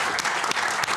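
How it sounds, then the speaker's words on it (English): A crowd at a Welsh book launch for women's personal stories of courage and displacement applauds its writers, a dense, continuous wash of clapping from many hands. "I would like to give a round of applause to all our writers."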